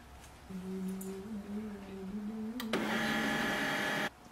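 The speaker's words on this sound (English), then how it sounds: "Wait for the printer to restart." An HP LaserJet M141we printer restarting hums with a steady motor tone, then gives a louder mechanical whirring burst of about a second and a half before it cuts off.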